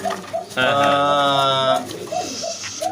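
A pigeon gives a loud, sustained throaty coo close by, followed by softer repeated cooing notes from nearby birds.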